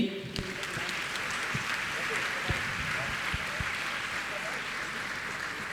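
A thin, scattered round of applause from the audience at a religious question-and-answer gathering in Indore, with sharp individual claps standing out over a steady murmur of crowd noise.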